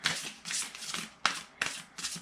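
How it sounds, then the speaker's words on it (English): Oracle cards are shuffled by hand in quick riffling bursts, about five crisp flurries with short gaps, close and fairly quiet. "I've already shuffled and pre-cut these cards. Just giving them a last shuffle here"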